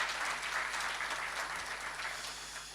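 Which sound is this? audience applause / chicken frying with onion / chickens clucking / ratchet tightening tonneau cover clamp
audience applause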